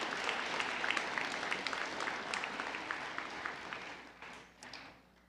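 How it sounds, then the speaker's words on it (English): Audience applause at a community college high school equivalency graduation ceremony, a steady wash of many hands clapping that fades out near the end. "One more round of applause for them."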